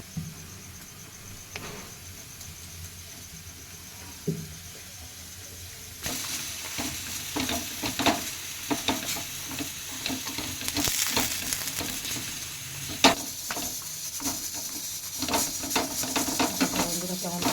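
Fenugreek leaves frying in oil for paratha, a soft, low sizzle for the first few seconds that then swells into a louder, busier crackle and spit with sharp pops scattered throughout.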